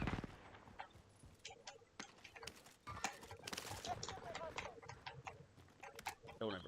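Horse hooves clip-clop in a video game, with sharp game sound effects and someone talking over them.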